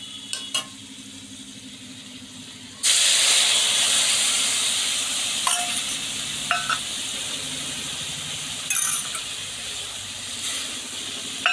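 Spice paste is tipped into potatoes frying in hot oil, and a sudden loud sizzle erupts and keeps hissing steadily, with a few stirring clatters on top. No one speaks.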